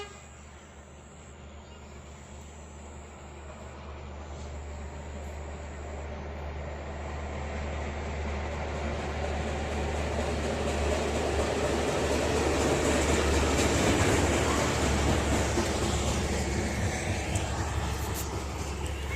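A train rolls past on the tracks, its broad rumbling roar building steadily louder toward the middle and lingering, with faint voices underneath.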